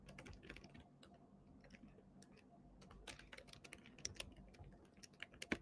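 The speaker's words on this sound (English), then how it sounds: "I'm just typing this in." Fingers type on a computer keyboard in a quiet room, soft irregular key clicks tapping along steadily with occasional sharper strikes, close and faint.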